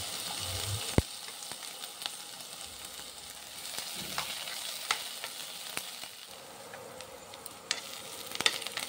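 Small chopped capsicum pieces fry in a pan for chilli paneer, a soft steady sizzle with occasional stirring scrapes and light taps, fairly quiet and close.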